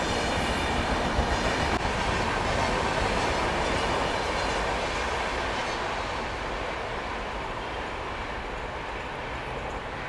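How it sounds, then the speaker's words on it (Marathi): A train rolling past a platform at Khadki railway terminal station in Pune, a loud continuous rumble and wheel clatter close by that fades slightly toward the end, with no voices. "आणखी एक ट्रेन आपल्याला स्किप करते प्लॅटफॉर्म नंबर 1 वरून."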